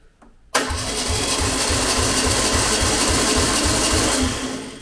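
An abandoned VW Beetle engine, likely unrun for years, cranks over and catches after a short quiet moment, then keeps running with a steady, loud, rhythmic chugging pulse close by.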